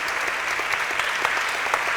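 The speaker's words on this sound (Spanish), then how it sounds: "un aplauso para los gurises, para los grandes" Steady applause from an audience in a parish setting honoring children, a dense patter of many hands clapping at moderate distance with no talk over it.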